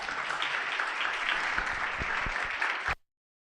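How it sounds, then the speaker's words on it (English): An audience claps for someone speaker at a college talk, a sustained patter of many hands at moderate volume that ends abruptly. "Please give her a hand of applause."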